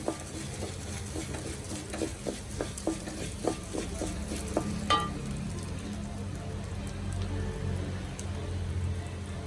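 Two tablespoons each of urad dal and sambar dal rattle and sizzle in a pan while making coconut chammanthi podi, with quick scraping stirs early on that settle into a steady low crackle.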